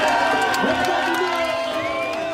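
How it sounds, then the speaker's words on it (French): A crowd cheers and whoops to welcome a finisher, with excited voices and shouts layered over one another at close range and a few high calls rising above the din. "On l'applaudit"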